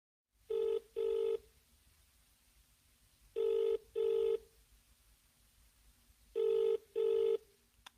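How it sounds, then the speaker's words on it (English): A telephone call rings out in a quiet room: three evenly spaced pairs of electronic ring tones, clear and fairly close, with silence between them. "He is phoning her for directions."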